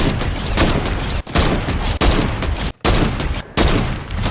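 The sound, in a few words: sniper rifle gunfire in Fortnite video game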